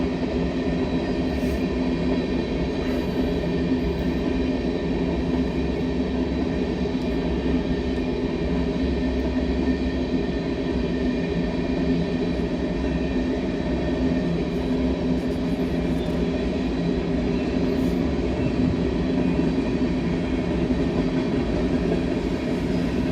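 A Union Pacific freight train rolls past a crossing in Cheyenne, Wyoming, a loud, close, unbroken rumble and rattle of wagons that holds steady throughout.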